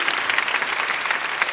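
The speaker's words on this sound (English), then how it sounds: "Can we give a huge round of applause to all of our district office that supports us?" An audience claps at a high school choir pop show at the Bonita Center for the Arts, a brief burst of steady, dense applause filling the hall without speech.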